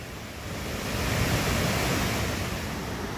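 Floodwater of the Kaveri river rushing in a steady, loud, broadband roar, continuous and close with no voices.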